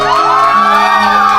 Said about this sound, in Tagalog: Isa pang masigaw mong palakpakan may kasamang hiyawan.